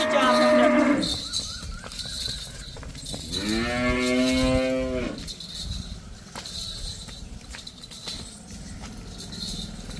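A buffalo on a dairy farm gives one long, loud moo, preceded by a brief voice and followed by farm background noise and scattered clatter.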